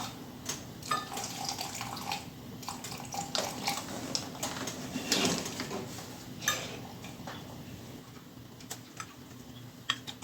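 Tap water runs and splashes steadily into a soup pot for a wild rice and mushroom soup, a continuous close gurgling stream with small clinks, no talking.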